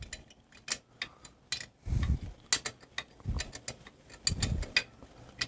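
A hand ratchet tightens a cylinder head bolt on a Harley Knucklehead engine, giving quick rhythmic clicking bursts with a few duller knocks in between, close and fairly quiet.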